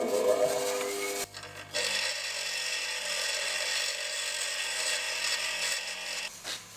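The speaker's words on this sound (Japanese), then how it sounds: "これ表面少し削ってパイプの中に入るようにやっていきます" A metal pipe's surface is filed down by hand during restoration of a Caterham Super Seven's rear suspension, giving quiet, continuous rasping strokes with brief pauses between passes and no talking.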